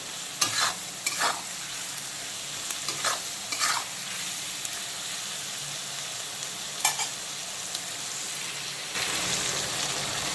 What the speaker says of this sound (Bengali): লো টু মিডিয়াম আঁচে অল্টারনেট করে করে পেঁয়াজ টমেটো আর কাঁচা লঙ্কাটাকে ভালো করে কষিয়ে ভাজা ভাজা করে নেব